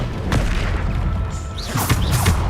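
Bombarda blasting spell exploding in the Hogwarts Legacy video game, a few heavy booms and crashes that land close and loud over a constant rumbling background of combat noise.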